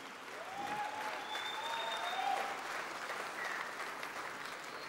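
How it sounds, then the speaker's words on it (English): Applause from an awards-show audience greeting a speaker, a quiet, distant wash of clapping that stays steady throughout, with a few faint tonal sounds drifting above it. "generous round of applause"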